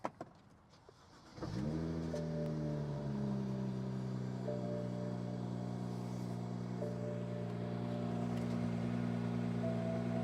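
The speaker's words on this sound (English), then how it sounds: "So we've got a healthy exhaust note. The car sounds great." A 2011 BMW 335is convertible with a straight-six engine starts after a short quiet moment, then settles into a steady, close, low idle exhaust rumble with a faint whine that persists throughout.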